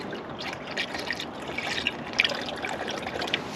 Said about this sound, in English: pour a little in and let's see if anything leaks out of anywhere